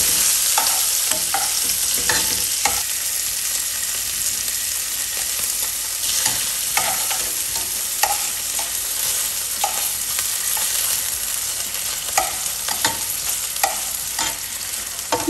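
Flathead fish fillets fry in a pan on a gas stove, giving a loud, dense, continuous crackling sizzle for the whole stretch, dotted with small pops and occasional utensil clicks. No voices.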